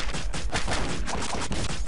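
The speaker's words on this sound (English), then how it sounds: "Why are you shooting me?" Rapid gunfire from the video game Postal 2 crackles in a dense, continuous fusillade of close, loud shots, sharp bursts packed tightly together with no pause for nearly two seconds.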